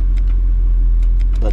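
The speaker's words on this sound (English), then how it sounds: "I hear a click and I hear a motor running" A 2003 Mercedes CLK 430 with a heavy low motor drone running steadily, punctuated by several faint short clicks, with a voice audible near the end.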